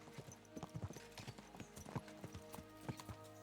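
Horse hooves clip-clop in a steady, brisk rhythm while riding in the video game Kingdom Come: Deliverance II, fairly close and fairly quiet, with faint in-game background sound underneath.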